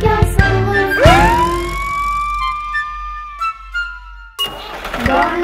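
A fire truck siren in a children's song sweeps upward into a loud, sustained wail, holds, then slides down before the music resumes around it.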